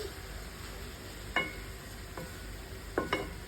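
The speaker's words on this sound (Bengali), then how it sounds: "এখন একটু নাড়াচাড়া দিয়ে আমি চুলাটা অফ করে দিই।" Food being stirred in a pan with very little oil, with a few distinct scraping clicks of the spoon against the pan over a low, steady background hiss, no talking.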